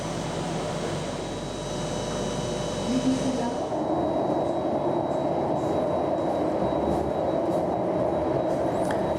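An underground tube train runs along the track with a loud, steady rolling rumble and a faint high whine, shifting in tone partway through as the ride continues.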